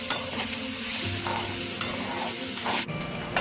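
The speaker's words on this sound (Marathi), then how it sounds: "त्याच्यात आता मी आलं आणि लसूण टाकत आहे. आलं लसूण पण व्यवस्थित भाजून घ्यायची." Ginger and garlic fry with softened onion in a pan, a steady hiss of sizzling with scraping stir strokes, close and continuous, no voices.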